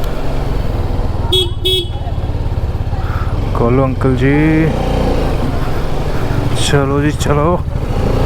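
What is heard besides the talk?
Apache RR 310 motorcycle riding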